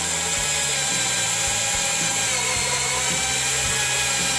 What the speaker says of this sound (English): Tim, you get your rusty but trusty drill there, all chalked up, and you're going to hit it with cutting oil as you go?